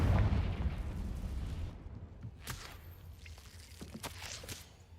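A Confringo spell blast in the video game Hogwarts Legacy: a deep rumbling explosion at the start that decays into a softer crackling tail, with scattered small pops and crackles afterward.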